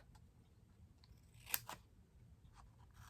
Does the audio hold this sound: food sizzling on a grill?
no